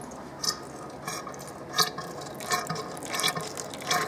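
A motorcycle upside-down fork being pumped in and out, pushing damper oil through with soft, wet squishing and gurgling bursts that repeat irregularly over a low background hiss, heard close up with no talking.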